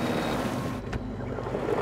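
A motorized canoe travels up a shallow, dried-out river in Panama, its steady outboard engine drone mixed with water wash and wind buffeting the microphone, continuous and close with no talking.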